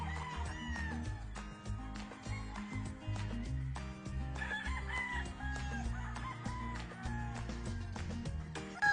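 Roundhead gamefowl roosters at a game farm crow and cluck faintly amid a busy mix of other sounds, with the calls fairly distant and intermittent.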